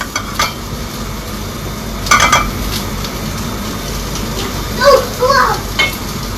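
Pots and pans clatter as a pan is switched while cooking pork menudo, with sharp metallic knocks and scrapes over a low background and a voice speaking.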